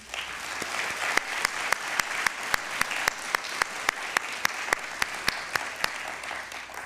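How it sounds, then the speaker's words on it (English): Steady applause from a crowd at a dental school pinning ceremony, with a few sharp, louder claps standing out in a regular rhythm over the continuous patter. "Can we give them a round of applause, please?"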